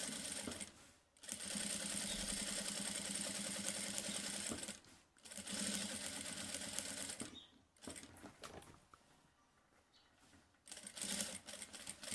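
A sewing machine runs in long bursts, stitching the seam of a quilted placemat, with short pauses as the fabric is repositioned and quieter, slower stitching near the end.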